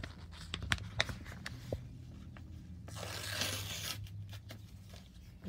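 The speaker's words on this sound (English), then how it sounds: "It's me tearing the envelope." Paper mail envelope torn open by hand, a few quiet crinkles and taps followed by one sustained rip lasting about a second, then more soft handling rustles.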